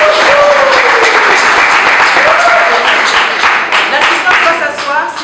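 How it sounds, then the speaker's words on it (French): Guests at a wedding ceremony break into loud applause right after the couple is pronounced married, the clapping swelling and then thinning slightly, with faint cheers and voices mixed in. "Sous vos applaudissements."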